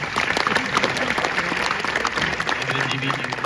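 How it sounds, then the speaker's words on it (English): Applause from the audience at a Q&A for the series 3 Body Problem, a sustained clapping wash with some speech and crowd murmur mixed in. "You can applaud that."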